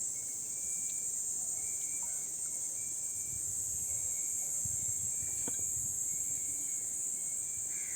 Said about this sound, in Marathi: काहीतरी टोळ फिरता इथे बघा